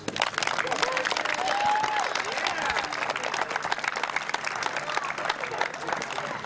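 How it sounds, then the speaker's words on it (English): Youth baseball players and onlookers after a game applaud at length, a brisk, crackling clatter of many hands with cheers and voices layered over it. "give yourselves a big round of applause"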